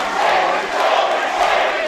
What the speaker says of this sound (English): The crowd clearly shocked by what they've just seen there.